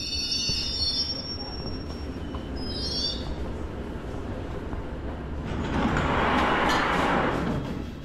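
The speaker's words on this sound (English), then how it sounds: "here comes our train and" A train pulls into a station in London on a cold day, with a steady rumble, high metallic squeals early on, and a broad wheel-and-brake roar swelling near the end.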